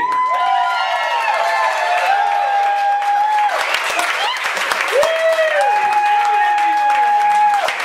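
An audience at a stand-up comedy show greets comedian Diane Jean with loud, sustained applause and cheering, mixed with tonal music running throughout.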